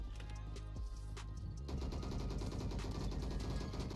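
Gunfire in the Roblox shooter Bad Business, with an MGX light machine gun in play, comes as dense, rapid automatic bursts that grow into continuous loud shooting, with no talking.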